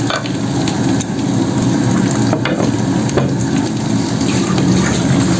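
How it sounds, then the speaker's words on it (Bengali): A pot of rice, lentils and vegetables boils hard, giving a loud, continuous close-up bubbling and hissing roar that stays steady throughout. "এই যে ফুটে এসছে এবার আমি এটাকে দমে দিয়ে দেব"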